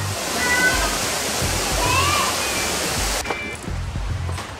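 Rushing water at Kathu Waterfalls forms a steady, loud broadband roar that continues throughout, with a faint high chirp or two over it.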